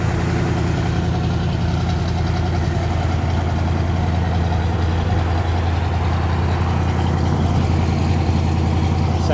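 A 1967 Chevrolet Impala SS with a big block engine and four-speed idles steadily, a deep continuous rumble held at a constant level throughout with no talk.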